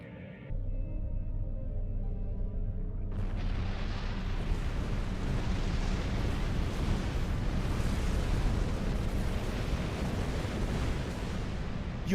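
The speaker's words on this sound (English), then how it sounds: "Detonate charges." Detonated charges go off in Star Trek Online: a quiet hum gives way to a massive sustained explosive roar that rumbles and hisses steadily for many seconds, loud and unbroken.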